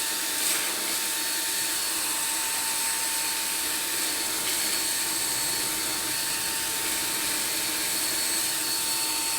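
A VICSONIC handheld vacuum cleaner runs on its low setting, giving a steady, close whirring roar with a constant motor whine that holds evenly from start to finish.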